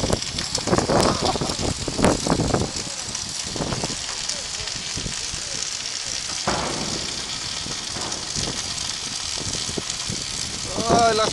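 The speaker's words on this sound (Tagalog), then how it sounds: "Ay, lakas ng ulan." Heavy rain falls in a steady broadband hiss throughout, with people talking over it at close range.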